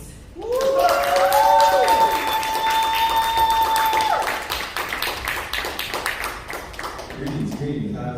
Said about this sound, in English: ladies and gentlemen, please start clapping